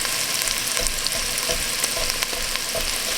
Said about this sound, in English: we'll add our garlic in there